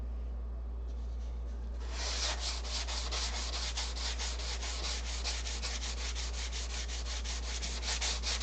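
Hand sanding of wood, starting as a faint scrape and then settling into steady, rapid back-and-forth strokes, close and even, with no voices over it.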